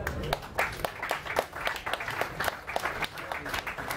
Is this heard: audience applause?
yes